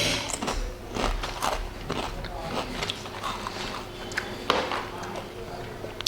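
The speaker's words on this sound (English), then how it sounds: "I will be trying crispy beetroot with Himalayan rock salt." Crispy beetroot chips seasoned with Himalayan rock salt are bitten and chewed close up, with repeated crunchy, crackling bites in an uneven rhythm over a low background rumble.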